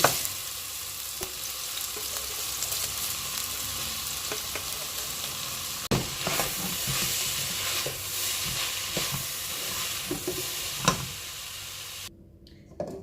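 Patty dough fries in hot oil for Haitian patties, a steady close sizzle broken by stirring scrapes and sharp clicks, then cutting off near the end; no voices heard.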